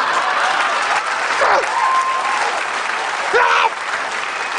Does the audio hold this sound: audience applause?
yes